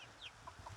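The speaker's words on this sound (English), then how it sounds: "He's a rooster." A rooster gives several short, soft clucks spaced across under a second, fairly faint against a quiet background with no talking.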